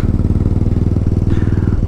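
Motorcycle engine idling at a very low speed, a loud, close, steady lumpy putter with uneven firing pulses and no other sounds.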